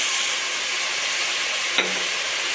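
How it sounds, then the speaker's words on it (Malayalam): Onion, tomato, green chillies and ginger-garlic paste fry in a pan for chana masala, a steady loud sizzle and hiss filling the whole stretch, with one brief clink of a spoon. "സവാള ഇട്ട് ഇളക്കി അതിലേക്ക് ഒരു തക്കാളി, 3 പച്ചമുളക്, ഇഞ്ചി വെളുത്തുള്ളി പേസ്റ്റ് ചേർക്കുക"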